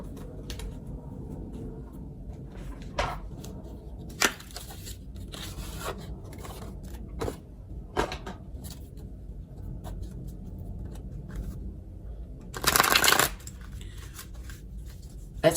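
Tarot cards shuffled and drawn up close, scattered soft flicks and slides with a sharper rasping burst near the end, quiet and without voices.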